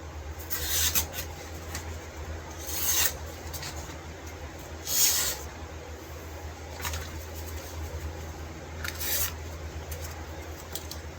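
A broken knife under restoration is sharpened on a guided sharpening system, giving about five soft rasping strokes spaced roughly two seconds apart over a steady low hum, fairly faint, with no talking.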